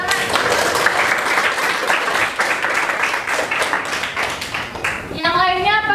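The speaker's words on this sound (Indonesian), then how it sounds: "Oke, tepuk tangan." Classroom applause from students after a pupil gives a maths answer, a dense steady clatter of many hands lasting several seconds before fading into a teacher's voice at the end.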